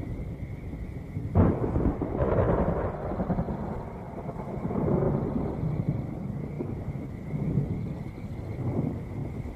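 An approaching thunderstorm: one sharp, loud thunder crack, then long rolling rumbles that rise and fall over a steady wash of wind.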